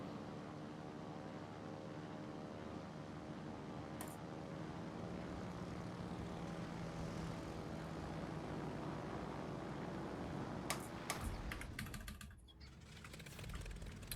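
Torpedo plane engines in the World of Warships naval game drone steadily at a distance, with faint keyboard taps near the start and a cluster of clicks and a brief dip in the hum near the end.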